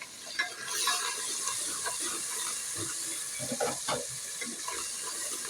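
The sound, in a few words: spice masala sizzling in pan after water is added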